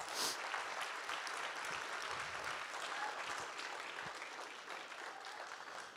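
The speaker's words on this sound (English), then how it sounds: "Let's give a big, beautiful round of applause to the 2 people in the room." A room of people at a charity wish auction applauds in a steady, fairly distant wash of clapping that holds evenly for several seconds.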